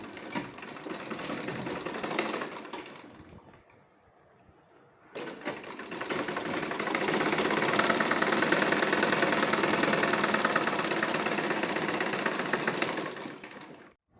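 A sewing machine stitches a fabric strip onto a garment sleeve for a ribbon sleeve design, running in a steady, loud, rapid whir. It stops briefly near the start, then resumes for a long continuous run before cutting off.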